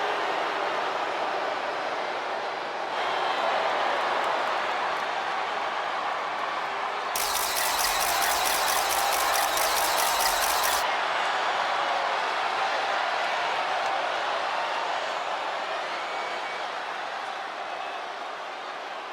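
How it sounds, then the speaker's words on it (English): A steady, loud wall of arena crowd noise in the WWE 2K25 wrestling video game as Tiffany Stratton is welcomed by a home crowd, a continuous roar with no distinct voices and a brief brighter swell midway. "Tiffany Stratton getting a warm welcome from this home crowd."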